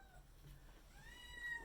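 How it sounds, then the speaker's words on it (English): A kitten meows repeatedly from somewhere nearby, trying to get out, rising cries over a low steady background hum with no talking. "Is that the baby cat trying to get out?"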